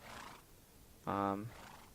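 A horse in a survival video game lets out one loud, harmonic neigh after some faint background noise.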